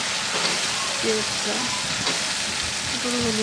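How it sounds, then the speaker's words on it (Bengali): Ginger and turmeric being sautéed in a pan for a pointed gourd and fish curry, a strong continuous hiss and sizzle with light stirring and a voice faintly underneath. "এখন আমি সুন্দর করে আবার একটু কষিয়ে নেব"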